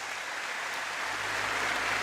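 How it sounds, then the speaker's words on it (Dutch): Spectators at a stallion inspection applauding a 30-year-old stallion, a broad, steady wash of clapping heard from a distance in a large hall, even and sustained with no clear individual claps. "applaus voor deze bijzondere hingst"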